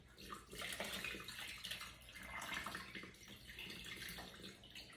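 Turkey brine is poured in a steady, faint splashing stream of liquid that runs continuously with slight surges.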